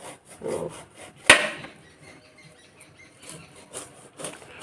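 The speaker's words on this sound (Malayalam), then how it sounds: "കുർത്തിച്ചക്ക കട്ട് ചെയ്യാൻ പോവാണ്" A knife cuts into a kurthichakka fruit. One sharp woody crack stands out midway, surrounded by soft scraping and rubbing noises, all fairly quiet.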